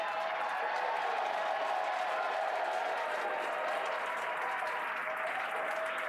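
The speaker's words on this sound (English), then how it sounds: "Crowds cheering here at SpaceX Mission Control Hawthorne as we tune in to see if we stick the landing." A crowd at SpaceX Mission Control in Hawthorne cheers and applauds after a Falcon 9 booster landing, a dense, continuous roar of clapping and shouts that holds steady throughout, heard from a short distance.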